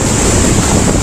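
A storm at sea around a stranded tugboat, with loud, steady roaring wind and crashing waves buffeting the microphone.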